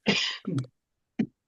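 A single sharp sneeze bursts out close up, followed by a brief sniff and a small click, then quiet.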